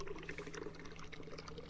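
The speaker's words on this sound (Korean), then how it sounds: "아, 물소리 좋다." Water pouring into a cup in a horror game, a soft continuous splashing and gurgling stream, faint and close, over a low background hum.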